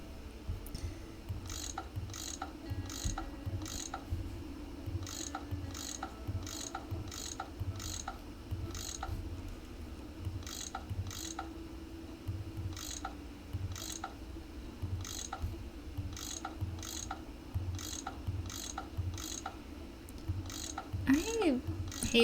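A tool loosens bolts in a Nancy Drew puzzle game, giving repeated quiet ratcheting clicks in a steady rhythm against a low mechanical hum, with a faint voice now and then.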